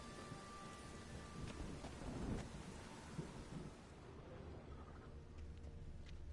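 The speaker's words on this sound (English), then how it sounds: "A storm, damn it." A thunderstorm in The Witcher 3 video game, with steady heavy rain and low rolling thunder rumbling faintly throughout, and no voices.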